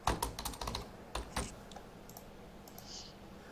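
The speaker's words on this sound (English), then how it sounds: "Sounds like you're beating up your keyboard." Hard, forceful typing on a computer keyboard, a quick burst of loud clustered keystrokes in the first second and a half, then a few scattered taps trailing off into quiet room tone.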